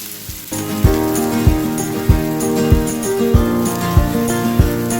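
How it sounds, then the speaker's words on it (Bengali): Sliced onions sizzle steadily in hot oil while being fried crisp for fish cutlets, a continuous close hiss with a few soft knocks and clatters of stirring, under background music and no talk. "তেলটা গরম হলে পেঁয়াজটা দিচ্ছি"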